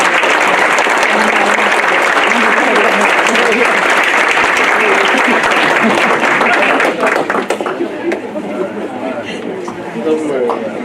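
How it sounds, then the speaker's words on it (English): Loud, sustained applause from an audience fills the room, a dense wash of clapping that thins out toward the end, with voices mixed in. "And one more round of applause."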